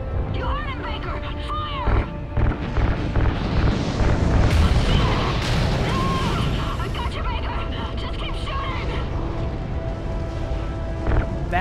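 Explosions in Call of Duty: Ghosts as RCS fuel lines are ignited, a dense run of booms and rumbling blasts with crackling debris, close and loud, layered over game music and radio chatter.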